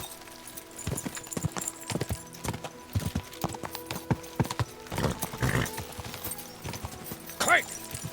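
Steady clip-clop of horse hooves over ground, with a horse whinnying near the end and voices speaking over the rhythm, from the video game Kingdom Come: Deliverance 2.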